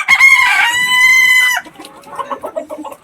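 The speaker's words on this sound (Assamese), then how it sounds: "দিয়াৰ লগে লগে মুৰ্গীবিলাকে খাব ধৰিছে" Local chickens cluck and a rooster crows loudly and close by as the birds start eating, the long crow followed by a run of short, choppy clucks.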